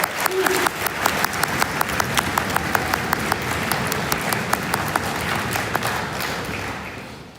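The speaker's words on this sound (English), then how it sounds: "another round of applause for Rena." A concert audience at a school symphonic winds spring concert gives a loud round of applause, with a steady stream of clapping and sharp individual claps close to the microphone, fading slightly at the end.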